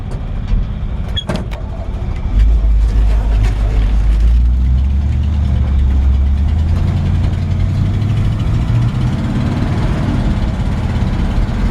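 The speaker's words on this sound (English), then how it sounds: "Got a nice sounding exhaust." A 1957 Chevrolet pickup's V8 rumbles at idle, then swells louder and settles into a steady, throaty exhaust drone close by.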